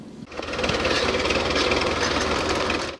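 Tractors working in tandem in a planted forest plot give a steady, rattling engine drone, close and fairly loud, that holds for about three seconds with no talk.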